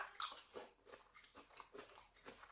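Chewing a Thai sweet and sour stir-fry with cucumber and onion, with several soft crunchy bites and mouth sounds close to the mic, quiet and without talk.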